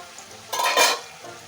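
Chicken pieces drop into onions frying in oil, setting off a loud burst of sizzling that swells, peaks and then eases back into a steady low fry, with a faint clink of utensils.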